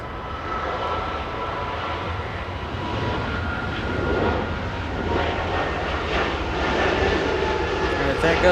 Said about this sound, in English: there goes the A220